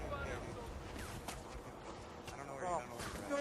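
Gunfire in the Battlefield video game, with scattered shots and blasts popping through a busy battle din while someone talks over it.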